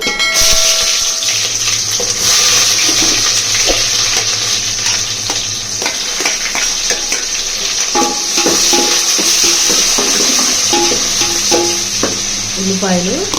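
Onions fry in hot oil with biryani masala in a kadai: a loud continuous sizzle broken by repeated spoon scrapes and clinks against the metal.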